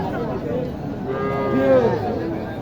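A cow lets out a long, drawn-out moo over the murmur of a busy crowd talking in the background at a cattle market in Naogaon, Bangladesh.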